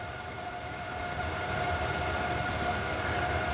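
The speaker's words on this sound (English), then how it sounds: "definitely hear the fan sounds to that" A steady, low whirring hum with faint tonal whine, continuous and unchanging, from a machine fan running nearby, heard through a VEVOR sound dampening blanket.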